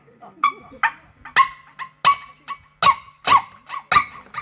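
A man imitates a small dog with his voice, giving a string of about nine sharp, yappy barks at a quick, fairly even pace, loud and close with brief gaps between each yelp.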